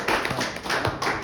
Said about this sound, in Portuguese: vamos bater palma pro Carlos, que é coragem.